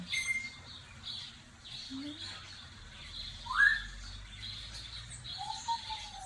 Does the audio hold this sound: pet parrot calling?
yes